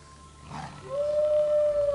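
A wolf in the online game Champions of Regnum lets out one long, rising howl that holds a steady pitch, loud and alone, after a short rough onset.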